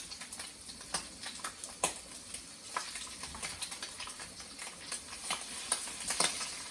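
Jumbo shrimp cook in a hot pan, giving a steady soft sizzle with scattered crackles and pops throughout, close and moderately quiet, with no talking.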